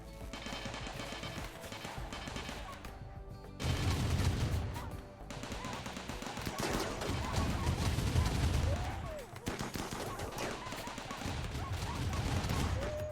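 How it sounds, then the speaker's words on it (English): Mini turrets firing in the game RimWorld, a dense rapid stream of gunfire sounds layered with other combat noise, continuous and fairly loud across the whole stretch. "Spin up those mini turrets."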